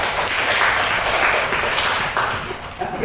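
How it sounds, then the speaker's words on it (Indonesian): Students in a classroom clap together for the class, a loud, dense burst of applause that carries on throughout and eases off slightly near the end. "Kita tepuk tangan untuk kita semua."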